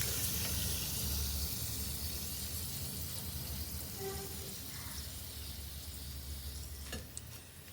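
Potato chips fry in oil with a soft, steady hiss and faint bubbling, fairly quiet and close, the sizzle fading slightly toward the end.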